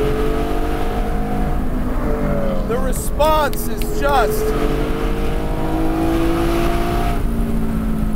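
A Porsche Spyder with a 4.5L engine and shortened gearing accelerates on canyon roads, its engine droning steadily from inside the cabin with a brief rising whine midway, while people talk over it.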